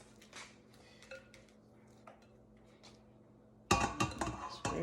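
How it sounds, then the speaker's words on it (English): A utensil scrapes mashed, well-ripened bananas out of a bowl for banana cake batter, with soft clinks at first and then a louder run of scraping and knocking against the bowl near the end. "Let me scrape all of this out of the bowl"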